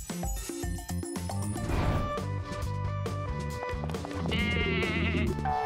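A goat bleats amid loud, busy music with a crash-like hit, in a cartoonish home scene where the goat climbs onto a table; the bleats are brief and partly buried under the music.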